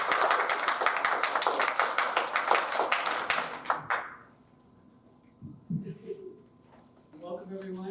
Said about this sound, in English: Please give a round of applause for Lindsey Bartlett